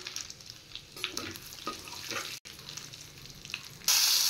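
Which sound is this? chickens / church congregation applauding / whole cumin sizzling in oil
whole cumin sizzling in oil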